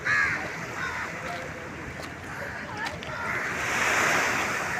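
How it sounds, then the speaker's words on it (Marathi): Ocean waves wash and surge continuously along the shore at Chaitya Bhoomi, a broad rushing roar that swells louder toward the end, with faint wind in the background. "लाटा बघा कशा करत आहे समुद्राच्या"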